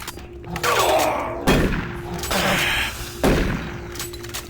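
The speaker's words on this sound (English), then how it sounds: "It's been a while since I've used a shotgun" Shotgun blasts in Doom 3, three heavy booming shots spaced about a second and a half apart, each followed by a decaying rumble over a steady background hum of game ambience.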